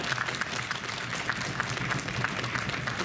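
Applause from an audience at a BronyDays 2015 cosplay event, a steady wash of clapping held at an even level for a few seconds, with a faint low hum underneath and no clear voice.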